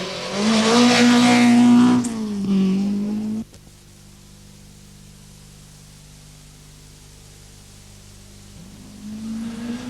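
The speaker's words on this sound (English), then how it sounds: "his Blydenstein Chevette, taking this left-hander in fine style" A Blydenstein Vauxhall Chevette rally car roars through a left-hand bend on the Circuit of Ireland rally, engine loud and close before dropping away abruptly, leaving a low distant hum and a faint engine rising again at the end.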